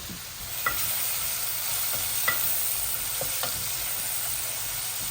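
Onions and dry chili fry in a pan with a steady, close sizzle, broken by several sharp scrapes and knocks as the pan is stirred.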